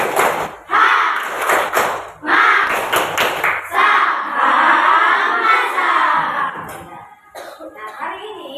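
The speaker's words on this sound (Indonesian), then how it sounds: "Jadi kita tepuk semangat dalam bahasa Arab." Inside a classroom, a class of children performs a rhythmic clapping chant in Arabic, with loud claps and shouted calls in close bursts and short pauses between phrases.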